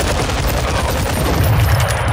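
Pistol fire in a Call of Duty Modern Warfare 2 multiplayer match, a loud, dense stretch of rapid shots and game noise packed into two seconds with no pause.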